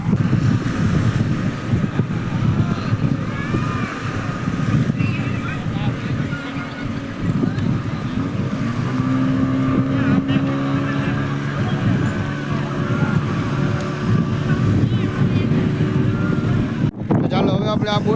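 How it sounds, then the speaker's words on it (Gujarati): A motorboat runs out on the sea off Shivrajpur beach near Dwarka, its engine a continuous drone mixed with heavy wind buffeting the microphone, with faint voices underneath throughout. "ચાલો હવે આપણે આ બોટિંગ કરવા જવું છે."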